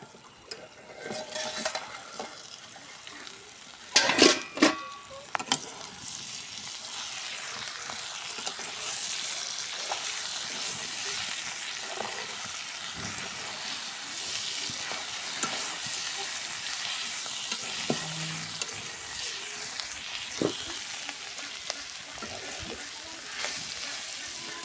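Bitter gourd frying in a pan makes a steady sizzle throughout, with occasional sharp scrapes and clatters of stirring, loudest near the start.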